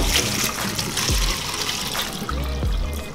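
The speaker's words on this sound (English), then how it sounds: "Now you transfer your pasta into your colander." Hot fettuccine and its boiling water pour out of a pot into a colander, a brief, loud, close rush of splashing water draining in the sink.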